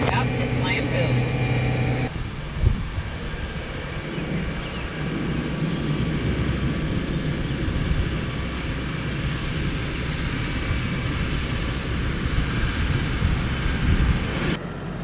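Two tractors run in a field spreading manure, one of them pulling a manure spreader. Their engines give a continuous, loud, rough drone throughout, with faint background voices.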